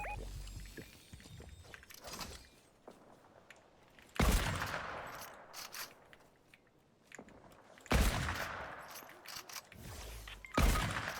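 Bursts of gunfire in the Fortnite video game: several loud, sharp volleys crack out at intervals, with quieter shots and game noise in between.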